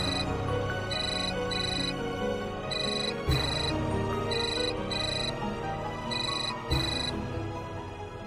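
A telephone ringtone plays in repeated electronic bursts of beeping tones, steady and fairly loud, with a brief thud between cycles and nobody speaking.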